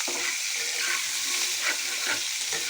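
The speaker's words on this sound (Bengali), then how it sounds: "এই যে ডিম আলু ফ্রাই করছি" Egg and potato fry steadily in a pan for an egg curry, a continuous close crackling sizzle with a few louder spatters and stirring scrapes, no voices.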